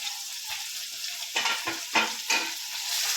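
Curry leaves and grated garlic hitting hot oil in a tempering for Kathiyawadi vaghareli khichdi, a close, steady sizzle broken by several sharp crackling bursts as the pan is stirred.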